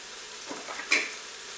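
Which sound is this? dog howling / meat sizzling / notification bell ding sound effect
meat sizzling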